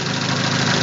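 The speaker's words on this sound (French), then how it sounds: "notre moteur respire à nouveau normalement" A car engine idles after repair for loss of power and starting trouble, giving a steady, close, low rumble with a fine, even pulsing throughout.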